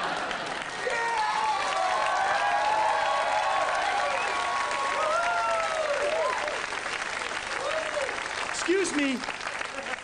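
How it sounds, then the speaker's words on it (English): An audience claps steadily in the middle of a rap performance, the broad applause running under voices and then thinning toward the end, where a short spoken remark cuts in. "What rapper has an applause in the middle of his rap?"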